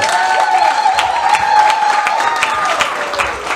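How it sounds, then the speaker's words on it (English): Steady audience applause fills a comedy roast at a theatre, dense clapping and crowd noise running continuously without a break. "Let's give him a round of applause."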